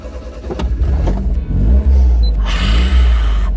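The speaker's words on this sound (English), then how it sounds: "Now I'm ready to take a drive in your little car." An early-1990s Honda Beat kei car engine revs and accelerates, loud and close, with a steady low rumble and rising engine tone that swells after a brief dip.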